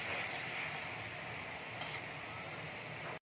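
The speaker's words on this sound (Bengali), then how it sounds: "এবার আমি আলুগুলো তেলের মধ্যে ছেড়ে দিচ্ছি" Potatoes fry in hot oil with a steady, fairly quiet broadband sizzle and a faint clink of a utensil partway through, no voices over it.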